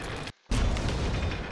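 A tank gun fires in the World of Tanks video game, a loud booming blast that breaks off sharply, then a heavy rumbling crash and sustained roar, close and dominant.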